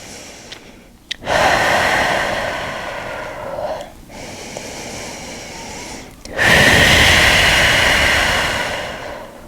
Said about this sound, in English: Feel free to take some cleansing breaths.